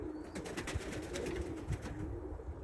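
Budapest Highflyer pigeons coo softly and steadily at a loft, with a faint flutter of wings against quiet outdoor background noise.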